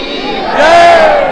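Huge, dense crowd of devotees at Bageshwar Dham, a loud close roar of many voices that swells into a rising collective shout partway through.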